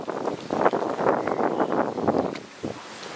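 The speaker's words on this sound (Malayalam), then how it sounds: "നല്ല കാറ്റുണ്ട് ഗൈസ്." Gusty wind on an apartment balcony on a rainy day, a steady rushing roar buffeting the microphone with surging peaks, easing slightly near the end.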